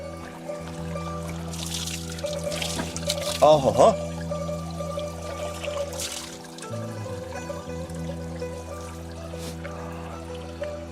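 Healing spring water at a small monastery is poured for washing, a soft trickling stream under ongoing talk and a short laugh, with a brief louder splash midway.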